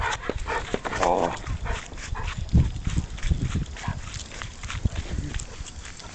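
Excited puppies greet someone at close range with whimpers, yips and short barks mixed with shuffling and pawing noises, while a person talks over them.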